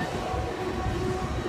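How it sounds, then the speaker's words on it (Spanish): A tram rolls past on a city street in Amsterdam, a steady low rumble of wheels and motor with faint background noise throughout. "miren, ahí viene un tranvía"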